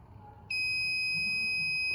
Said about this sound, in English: we show the LED and the buzzer will sound